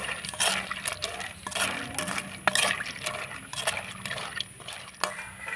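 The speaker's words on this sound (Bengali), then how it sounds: "চামচের সাহায্যে একটু নাড়াচাড়া করে নেব।" A spoon stirring lukewarm syrup poured over palm-flavoured chui pithe dumplings, with repeated light clinks and liquid swishes in an irregular rhythm, close by and without voices.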